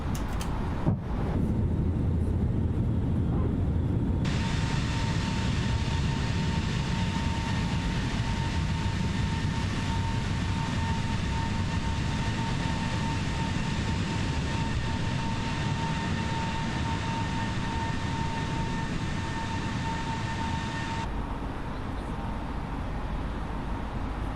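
Airbus A320neo jet climbing out after takeoff from Fort-de-France, Martinique in Microsoft Flight Simulator: a steady, loud cockpit engine roar with a sustained whine, continuous throughout and without talk.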